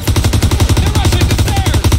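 Rapid machine-gun bursts crackle loudly and continuously during a World War II firefight in Call of Duty WW2, the dense rattle of shots running without a pause across the whole stretch.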